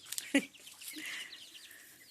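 Chickens clucking nearby in short bursts, with one sharp cluck near the start followed by softer, scattered chatter.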